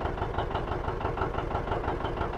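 A John Deere 720 diesel tractor engine runs steadily at idle up close, with a loud, even, low-pitched knocking chug and no voices.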